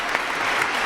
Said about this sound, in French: on va applaudir très fort Clotelex